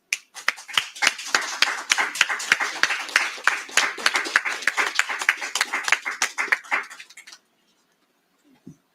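Clapping from people gathered at a press briefing on a solved cold case, a loud patter of many hands with sharp individual claps that runs for about seven seconds, then stops abruptly into silence.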